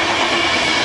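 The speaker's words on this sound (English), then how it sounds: "That's a long train." A long passing train roars close by as a loud, steady broadband rush of wheels and carriages with no talking.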